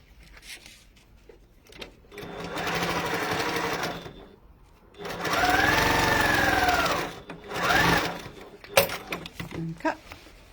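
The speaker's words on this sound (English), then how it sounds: "I'm going to sew them." A sewing machine stitches a hole closed in two sustained whirring runs of a few seconds each with a pause between, close up, followed by a short burst and clicks, with faint voice-like sounds around it.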